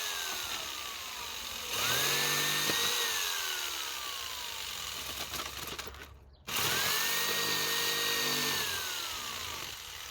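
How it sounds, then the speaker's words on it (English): A power saw cuts pieces off a thrifted wooden bowl in two long passes, the motor whining up and dropping in pitch under load, loud and close, with a brief cutoff between runs. "I just need to take the saw and cut off some of these pieces"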